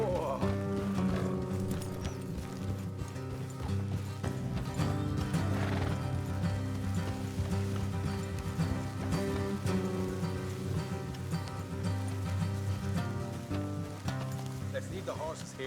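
Horses in the Red Dead Redemption 2 video game clopping hooves in a steady rhythm with a loud whinny, under rain, music and spoken dialogue from characters riding along.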